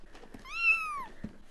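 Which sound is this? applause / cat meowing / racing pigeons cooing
cat meowing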